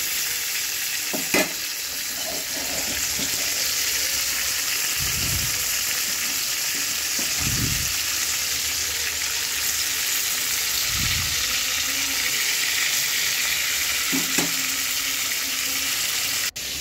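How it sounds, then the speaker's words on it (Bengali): Rohu fish pieces rubbed with salt and turmeric fry in hot oil, giving a steady, close hiss of sizzling that runs throughout, with a few soft low thumps and scrapes from a spatula in the pan. "মাছটা ভালো করে তেলের মধ্যে বেশ ভালো করে লাল করে ভেজে নেব।"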